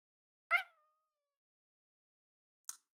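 Cat giving one short, clear meow close up in a quiet room, followed about two seconds later by a brief, fainter chirp.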